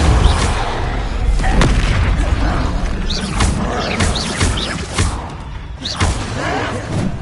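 Spell explosions from Incendio, Confringo and Depulso casts in the Hogwarts Legacy video game, a steady run of loud booms, thuds and crackling blasts close up, with shouting over them.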